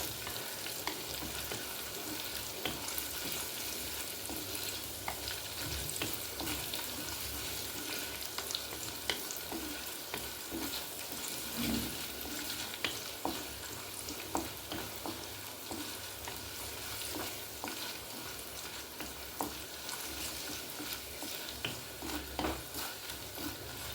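Seasoning browns in hot oil in a pan for uppumanga curry with salted mango: a continuous dense sizzle and crackle, close by, with occasional stirring scrapes and no talking.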